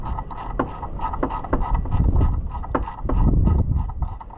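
Wrenching out 10 mm mounting bolts on a New Holland TN75DA tractor, with a quick series of close metallic ratchet clicks and clinks in uneven bursts, along with faint handling knocks.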